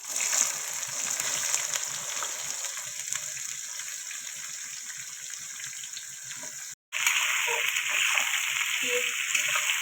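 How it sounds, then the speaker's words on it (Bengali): Onions frying in hot oil with cumin, bay leaf, dried chilli, cinnamon, clove and cardamom for a chicken curry, a steady loud hiss and crackle running throughout with one brief drop to silence partway. "পেঁয়াজটা একটু লাল লাল করে ভেজে দিই"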